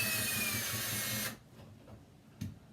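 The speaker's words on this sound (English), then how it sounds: "unless you're comfortable with your drill, you don't want to come down on, you don't want to over torque these" Power drill running steadily for over a second while driving the mounting screws of an over-the-range microwave, loud and close, then stopping, followed by quieter handling knocks and a short thump.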